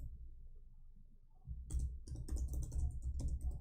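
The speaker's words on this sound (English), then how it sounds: "I don't know why this typing is so slow." Quiet room tone, then a burst of rapid keyboard typing with irregular clicking keystrokes, close and fairly loud.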